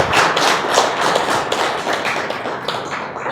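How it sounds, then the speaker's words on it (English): An audience gives a standing ovation with dense, loud clapping that fills the space without a break. The applause fades a little toward the end. "can I have a standing applause for you, please?"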